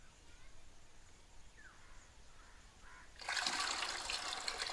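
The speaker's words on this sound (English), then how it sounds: "Come on, put water in this." Water splashes and trickles softly onto plants, then turns into a louder steady pour partway through, with faint background noise throughout.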